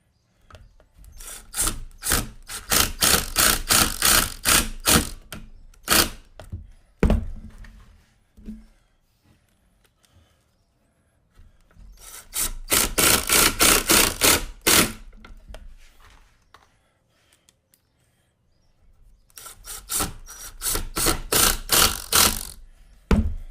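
A cordless screw gun drives screws in three long, loud buzzing bursts separated by pauses, each a steady mechanical whir with a ratcheting edge.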